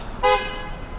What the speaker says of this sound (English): Mercedes wasn't moving, hence the honk.